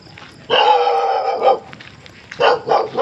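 A dog barks at night beside a rough road in two bursts, first a sustained run of barking, then a pause and a couple of sharper barks, fairly close and loud.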